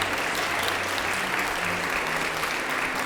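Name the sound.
audience applause for the Third Coast Suzuki cellos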